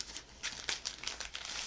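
A plastic bag around a cross-stitch kit crinkles and rustles in steady irregular bursts as it is handled and opened, close and fairly quiet with no speech.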